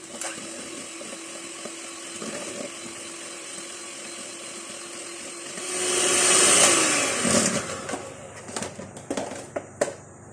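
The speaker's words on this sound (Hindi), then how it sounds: "सबसे पहले मक्खन को बीट कर लेते हैं।" Butter being beaten with an electric mixer for coconut cookies, a steady whirring motor drone that swells louder midway, then breaks into short bursts and knocks as the beaters stop and start.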